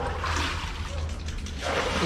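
Water rushes steadily while filling a container at a comfort room under construction, a close continuous gushing that shifts slightly in tone near the end.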